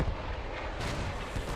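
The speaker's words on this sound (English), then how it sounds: "Bombing run landing perfectly on the flak cannon for the defenders. Artillery also landing perfectly for KGK in this compound here." Bombing run and artillery explosions in the WWII video game Post Scriptum, a dense, rumbling wash of distant blasts rolling continuously for a moment.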